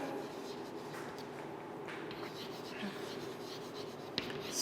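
A marker or chalk scratches and rubs across a classroom board as grammar examples are written, faint intermittent strokes over a steady room hum.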